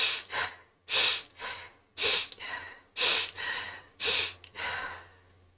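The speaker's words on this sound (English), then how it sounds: "Sorry for all the sniffles." Someone sniffles through the nose again and again while streaming. The sharp inhales come at a steady pace of about one per second, close to the mic with nothing else around them.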